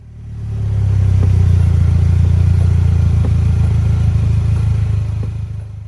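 Polaris Slingshot engine idling, a steady low rumble that swells in over the first second, holds loud and close with faint ticking, then eases slightly at the end.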